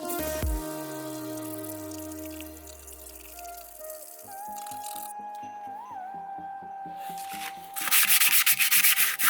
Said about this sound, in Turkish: Şimdi zımparayla hafif bir yüzeyden geçeceğim.